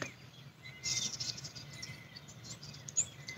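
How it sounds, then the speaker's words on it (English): Birds chirp outdoors, faint and distant, with a few brief high tweets over soft background hum and insect-like noise. "just sit here and just listen to the birds chirping"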